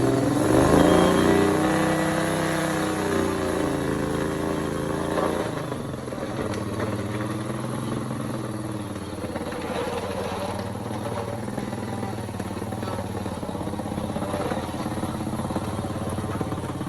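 A tracked Power Wheel ride-on powered by a 25hp V-twin engine revs up at close range, its pitch rising and falling before settling into a steady, throbbing mid-range idle.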